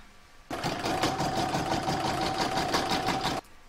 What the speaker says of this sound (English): I'm going to put that back into my machine and stitch round number 36, which is going to zigzag all the way around the raw edges.